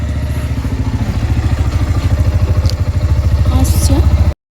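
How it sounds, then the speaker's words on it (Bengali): A motorcycle carrying two riders on a cold evening on the way to Serampore thrums close and loud with a rapid, regular engine pulse that holds steady before cutting off abruptly. "বাইকে উঠে পড়েছি, এবারে যাচ্ছি শ্রীরামপুর দুজনে মিলে"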